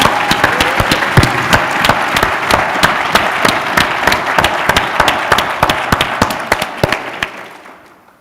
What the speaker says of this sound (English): Could we have a round of applause for that poem?